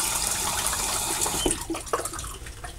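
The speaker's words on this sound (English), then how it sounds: "A little water on my face." Water runs steadily from a bathroom tap, a soft continuous splash that thins out toward the end as hands wet a face before a shave.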